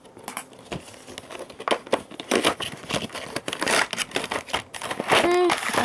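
Plastic packaging and tape on a boxed NECA Terminator Heavy Gunner endoskeleton figure being torn and crinkled open, close and busy with rustling crackles and rips, mixed with talking.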